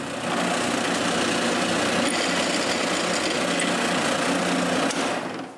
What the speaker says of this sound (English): I drill a small hole there.